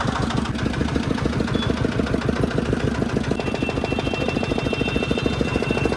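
A car engine idles steadily while stopped at a CNG fuel pump, a loud, close, continuous rumble with a fast regular throb that fills the whole stretch and has no speech over it.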